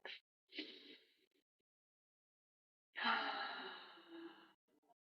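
A long, deep breath drawn in and let out slowly during a guided tapping and self-acceptance exercise, a short breath and a sigh first, then a full breath after a pause, close and clear with no speech.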